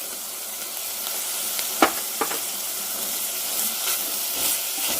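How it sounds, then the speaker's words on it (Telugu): Oats frying in a pan for soup alongside tomato, giving a steady soft sizzle with a few sharp clicks and scrapes of stirring, close and fairly quiet, no voices. "మొత్తాన్ని ఫ్రై చేసుకోవాలి బాగా"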